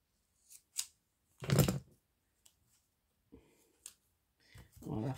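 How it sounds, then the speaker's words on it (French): Scissors snipping small pieces of paper at a craft table, a few short crisp cuts scattered through the clip, with a voice talking near the end. "on va couper des petits morceaux comme ça"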